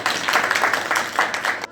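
A Christmas gathering audience in Kot Fatuhi, Hoshiarpur claps steadily for nearly two seconds, a dense mid-level patter that stops abruptly.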